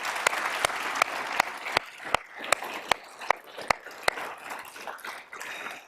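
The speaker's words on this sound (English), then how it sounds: "Let's give them a round of applause." A conference audience applauds the organizing team at a closing session, with a dense wash of many hands clapping and several sharp, nearby claps standing out at a steady rhythm throughout.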